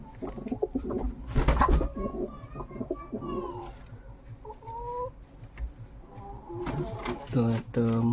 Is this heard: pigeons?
yes